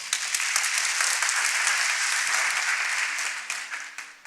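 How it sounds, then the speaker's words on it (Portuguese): Applause from a church congregation at a communion service, a dense steady wash of many hands clapping that holds for a few seconds, then thins and fades toward the end. "Pode dar uma salva de palmas?"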